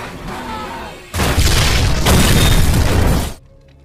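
A bomb blows up in a film scene: a sudden, loud, roaring blast that fills the soundtrack for about two seconds, then cuts off abruptly into quiet.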